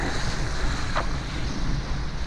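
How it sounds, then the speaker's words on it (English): Strong wind and waves rush against a sailboat beating at 8 knots into a 30-knot apparent wind under mainsail alone off Tasmania's east coast in winter, a loud, steady roar of wind noise and surf with a brief splash. "We're doing 8 knots into the wind and the waves, just on the main."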